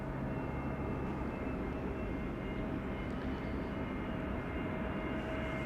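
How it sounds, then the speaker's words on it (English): An EasyJet Airbus A320neo arriving from Prague at Amsterdam Schiphol gives a faint, distant, steady engine rumble, continuous and unbroken, with no one speaking. "This is an EasyJet A320 Neo arriving from Prague in the Czech Republic."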